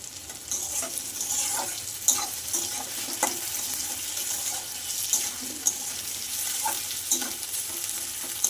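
Food frying in a pan in a home kitchen, a steady soft sizzle with scattered clinks and scraping taps of a utensil stirring, fairly close and moderately quiet, no talking.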